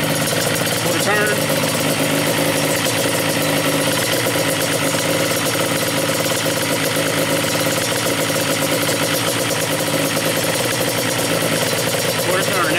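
Stock Yamaha Banshee two-stroke engine idling after a carburetor air-mixture adjustment, a steady, close, vibrating idle held throughout with someone talking over it.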